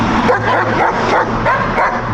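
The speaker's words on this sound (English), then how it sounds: "Making a lot of noise. Those dogs are called Rottweilers." Rottweiler dogs barking and yipping continuously at a loud, steady level outdoors in Gordon Pen, with a constant background hum and no clear talk.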